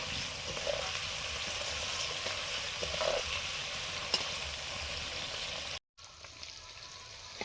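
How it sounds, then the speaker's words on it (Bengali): Paneer fries in a pan with a steady, soft sizzle and crackle, broken by a few faint clinks and a brief silent gap near the end. "পনিরটা ভেজে নেব এখন"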